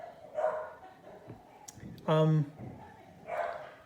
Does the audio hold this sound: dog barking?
yes